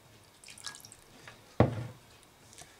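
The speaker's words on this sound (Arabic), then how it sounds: "الماء كيطلع" Water drains out through the hole in the bottom of a lemon plant's pot. It comes as a few soft drips and trickles, one of them a sharper splash at close range, with quiet gaps between them.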